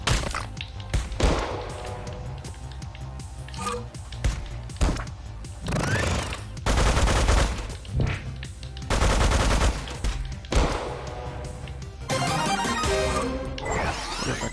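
Machine gun fire in the side-scrolling fighter Megabyte Punch comes as repeated rapid bursts of loud, clattering shots with thuds and crashes between them, and the volume rises and falls across the stretch.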